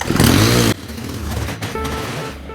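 A STIHL string trimmer's small two-stroke engine roars loudly in a short burst, then drops back to a steady, quieter idle that keeps running close by.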